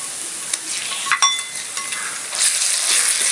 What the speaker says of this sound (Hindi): गरम मसाला डालकर इसे भी हम अच्छे तरीके से भून लेंगे